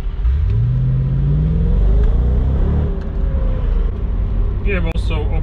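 A Mercedes-AMG SL 55 R230 with a 5.5-liter V8 rumbles loudly close by, its engine note rising as it revs and accelerates, with someone talking over it.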